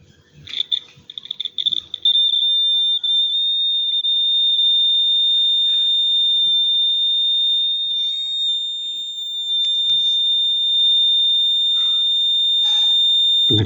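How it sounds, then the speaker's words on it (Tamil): A piezo buzzer powered by a grape acid battery gives a steady, loud, high-pitched electronic tone. It starts after a couple of seconds of faint clicks and holds almost unbroken to the end. "ஏதாவது பஸ்ஸர், அதாவது டிஎஃப்சிடி பஸ்ஸர் ஸ்பீக்கர்னுவாங்கள அது."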